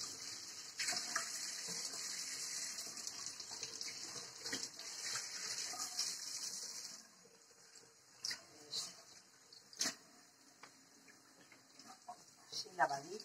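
Cabbage leaves are washed under a running kitchen tap, with a steady close hiss of water for about seven seconds, then quieter handling splashes and drips.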